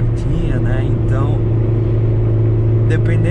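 A 1997 Chevrolet Corsa Wind with a swapped 1.8 engine runs at high revs in fifth gear, heard from inside as a steady loud engine drone with a constant hum and road rumble. No one speaks.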